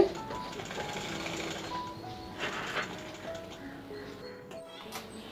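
Sewing machine stitching the shoulder seam of a baby frock, a steady whirring mechanical drone with soft rattling gear noise that runs continuously at moderate level before easing toward the end.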